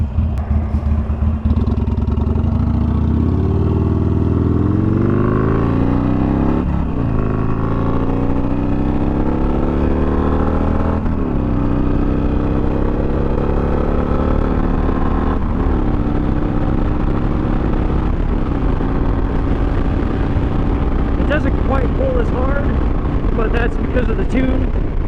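Harley-Davidson Sportster fitted with a Two Brothers Comp-S 2-1 exhaust pulls onto a highway, its engine climbing through several rising revs and gear changes over wind rush. Someone talks over the ride.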